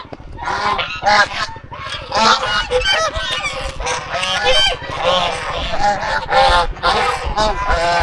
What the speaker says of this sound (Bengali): এটা সব থেকে বড় পুকুর এখানে, আর এখানে হাঁসরা আছে।